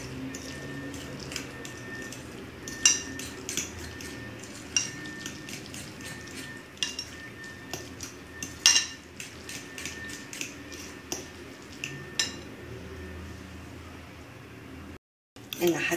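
A utensil stirs Tunisian-style tuna filling in a dish, giving sparse, irregular clicks and soft scrapes against the bowl over a quiet room background, with a brief dropout near the end.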